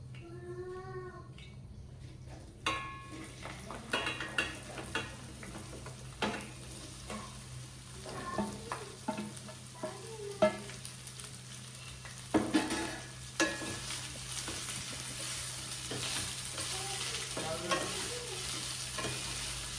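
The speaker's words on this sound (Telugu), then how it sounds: "ఇప్పుడైతే నేను బెండకాయలు వేసేసుకుంటాను" Okra fries in a kadai with a soft, steady sizzle while a wooden spatula stirs and scrapes, giving intermittent clacks and scrapes over the frying.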